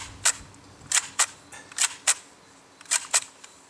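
Sharp metallic clacks from an AK rifle being racked with a dirt-clogged Tapco magazine, about seven crisp action clicks, several in quick pairs, close and fairly loud over quiet background.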